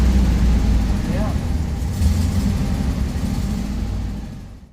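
A 1963 VW Bus engine idles nearby with a steady, low rumble that holds even throughout before cutting off at the end.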